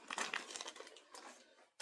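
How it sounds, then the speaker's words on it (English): Plastic breast milk storage bag crinkling close up, a short burst of rustling handling that fades, then a brief final crackle. "there's what we call the breast milk storage bag"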